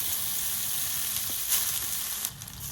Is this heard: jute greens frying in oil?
yes